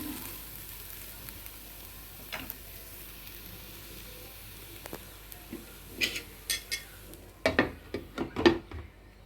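Sliced okra frying in a pan, a soft steady sizzle that grows busier near the end with several clicks and scrapes of stirring, close and fairly quiet.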